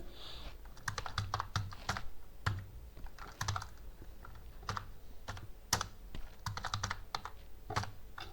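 Keys clatter on a computer keyboard during spreadsheet entry in Excel, with close, irregular bursts of keystrokes and short pauses and no voices.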